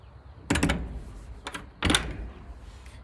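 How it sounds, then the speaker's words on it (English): A wooden door on a duck and chicken coop is swung shut and latched: a couple of sharp knocking thuds with a lighter click between, close by, with no voices. "Keeps the door closed and latched"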